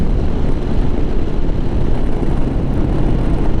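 Lifan KPX 250 dual-sport motorcycle engine cruising in fifth gear of its six-speed box, a steady loud drone mixed with heavy wind rush, continuous and unbroken throughout.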